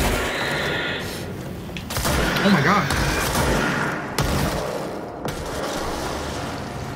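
Video game explosions and gunfire fill the whole stretch as a dense, continuous roar with louder bursts and thumps, near and loud throughout, with a voice talking over part of the battle.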